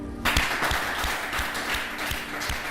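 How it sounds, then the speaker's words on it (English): A studio audience and housemates applaud evicted contestants on an African reality TV show, a steady wash of clapping with louder individual claps standing out, continuing throughout at close range. "A round of applause for them."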